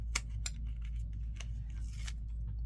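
Backing paper peeled off adhesive tape during junk journal folio crafting from junk mail, giving several sharp crackling rips and tears up close over a steady low hum.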